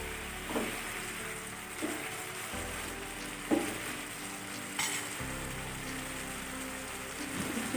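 Chicken liver roasting on a hot tawa gives a continuous close sizzle and crackle, with spatula strokes clinking against the metal every second or so and no one talking.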